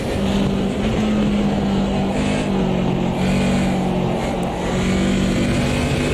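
A BMW 2002 Turbo engine in the Automobilista 2 racing game drones steadily at a constant pitch, loud and continuous with slight rises, with no voices heard.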